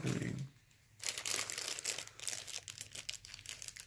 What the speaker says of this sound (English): we don't need to unwrap every single mini